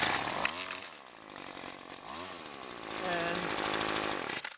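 A Weedeater Featherlite FL20/FL21 string trimmer engine is pull-started, sputtering with a few rising and falling revs before it catches and runs at a buzzy idle, close by, with a brief word spoken.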